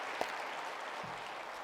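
A church congregation at a Sunday evening service claps softly, a faint, distant patter of applause.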